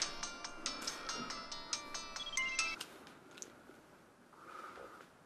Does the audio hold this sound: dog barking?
no